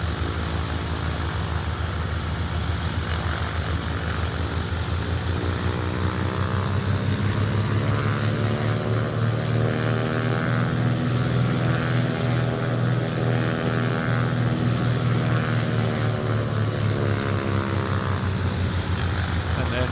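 A Cessna CT210N single-engine propeller plane in MSFS 2024 drones steadily with its engine at 1700 RPM, a continuous even hum whose pitch rises slightly midway and then settles, with no voices.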